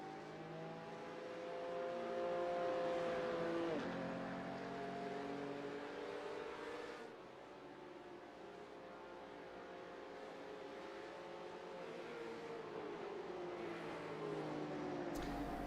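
Race cars in a racing video game hold formation behind a safety car, their engines droning steadily with rising and falling pitch sweeps as the pack rolls through a horseshoe turn, sustained and fairly even throughout.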